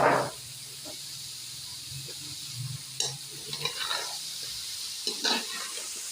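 Potatoes, carrots and peas are stirred in a pan over low heat. A soft hiss runs underneath, with a few scraping and clinking strokes of the spoon scattered through the stretch.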